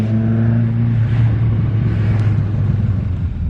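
A Datsun 510 engine idles and revs with a deep, throaty rumble, loud and close, steady throughout.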